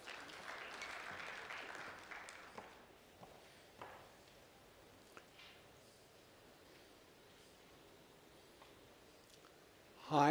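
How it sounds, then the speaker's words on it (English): A seminar audience applauds a speaker at a local-government talent management seminar. The clapping is faint and fades out within a few seconds into quiet room tone, followed by a brief louder sound at the very end. "Round of applause."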